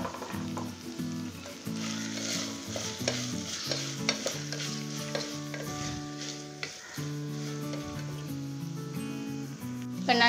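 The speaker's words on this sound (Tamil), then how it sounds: "அந்த பீட்ரூட்டையும் சேர்த்து நல்லா வதக்கிக்கலாம்." Chopped beetroot is sautéed in a pan, with steady sizzling and stirring scrapes running throughout under a layer of tonal background music.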